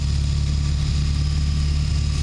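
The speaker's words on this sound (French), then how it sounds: "d'avoir uniquement le bruit de la moto" BMW R18 motorcycle engine while riding: a loud, continuous low throbbing rumble with steady pulsing beats and a wash of wind and road noise, sustained evenly throughout without any voices.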